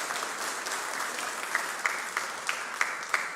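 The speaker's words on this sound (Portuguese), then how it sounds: "Pode aplaudir." An audience at a church Bible-reading talk applauds after a testimony, with dense, even clapping from many people and a handful of crisp, louder individual claps cutting through near the end.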